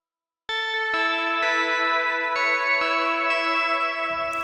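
A bright synth lead plays sustained, wavering notes with gentle vibrato and a reverberant tail, steady and fairly loud with no voices.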